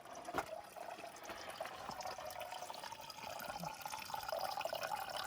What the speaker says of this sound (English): Nice and cold water.